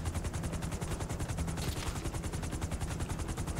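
Rapid automatic gunfire in GTA V Online rattles on in a dense, unbroken stream of shots that sounds loud and close, with no talk over it.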